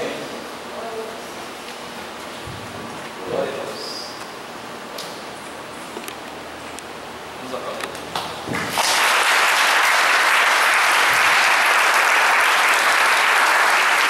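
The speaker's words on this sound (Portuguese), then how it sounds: "Vamos aplaudir." A church congregation breaks into applause after a sermon, dense steady clapping that bursts in suddenly and holds loud and full after a quieter stretch of murmuring and small room sounds.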